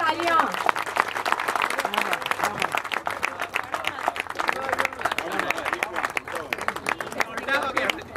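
Audience applause for Jackie Shroff at an animal-welfare event for an Ekta Manch animal care van donation, steady clapping and crowd noise with talk and babble mixed in throughout.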